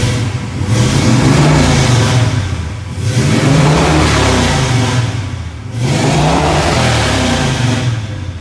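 A big Ford Mustang V8 engine starts and roars loudly, revving up in repeated surges with brief dips between, close by and with no talking.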